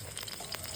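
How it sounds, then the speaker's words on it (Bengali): Potato pieces fry in a little oil on a stove, a short, steady close-up sizzle with faint crackles and no voices. "হালকা তেল দিয়ে এটা আলুটা ভেজে নিলাম।"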